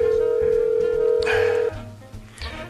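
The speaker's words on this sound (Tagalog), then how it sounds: "Ay, nagre-ring na ang cellphone ni Marisa" A cellphone gives a steady, sustained electronic tone that cuts off partway through, followed by quieter background sounds.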